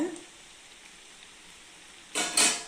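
Banana flower vada frying in hot oil, a faint steady sizzle through most of the stretch that swells into a louder, brighter burst of crackling near the end.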